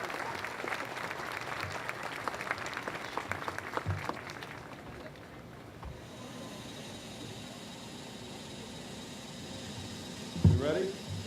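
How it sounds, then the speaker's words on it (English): Dense applause from a crowd at the Tejano Monument unveiling, steady and fairly loud for about five seconds, then dying away to a low murmur and room hum, with a brief voice near the end. "Let's give them a big round of applause."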